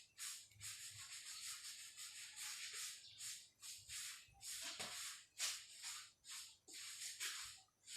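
Writing is erased from a board in a run of quick, scratchy rubbing strokes, close and fairly faint, each stroke separated by brief pauses.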